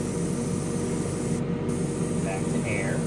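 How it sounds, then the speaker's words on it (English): An airbrush sprays a light coat of paint onto a 1967 Impala model car kit, a steady close hiss that runs throughout with a brief break midway. "So I'll just go a very light coat of paint."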